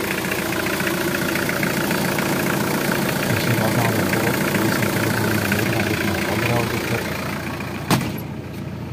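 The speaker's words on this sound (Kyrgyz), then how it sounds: "Мотор жүрүп бар." A 2002 Hyundai Porter truck engine idles steadily and loud up close, a continuous low mechanical rumble that runs unbroken before a brief knock near the end, with no talk over it.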